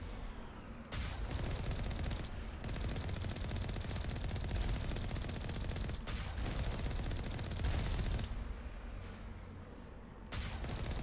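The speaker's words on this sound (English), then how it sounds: "Alliance heavy turrets. Interesting. Why are we fighting Alliance turrets?" Alliance heavy turrets fire in a Mass Effect battle, a continuous dense roar of rapid automatic gunfire with brief gaps, steady and moderately loud, with no talk.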